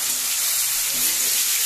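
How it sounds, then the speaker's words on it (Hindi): Besan gatte fry in refined oil, a steady, loud hiss and sizzle that holds evenly throughout with no talk over it. "थोड़ा तलना है ना"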